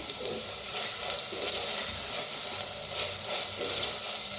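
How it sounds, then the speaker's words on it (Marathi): Chopped tomatoes sizzle steadily as they roast in a pan for a bitter gourd dish, a close, continuous frying hiss with occasional stirring scrapes and no talking. "आता ह्याच्यात टाकूयात टमाटर कापून घेतलेलं छान भाजून घेऊया"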